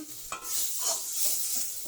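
Cashew nuts frying in a pan as they are stirred, a steady soft sizzle with scraping and light clinks of the spoon against the pan, close and fairly quiet.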